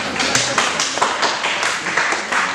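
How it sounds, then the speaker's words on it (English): Audience at a seminar on joint development agreements giving a round of applause, steady, dense clapping from many hands, loud and close, sustained for a few seconds. "Please welcome him with a huge round of applause."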